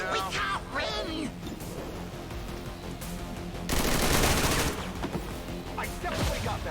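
Rapid gunfire bursts from an XCOM 2 battle, with repeated automatic volleys crackling through the whole stretch and a louder, denser salvo in the middle, mixed with game effects and faint background voices.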